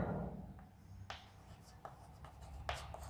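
A pen or chalk writes out a column for a class, giving a few short scratchy strokes and taps close by against a quiet room.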